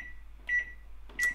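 A microwave oven control panel, used as a pretend time machine in a short film, gives two short electronic beeps over a steady low hum, close and clear.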